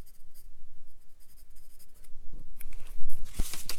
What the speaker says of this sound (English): I'm just going to write ballast here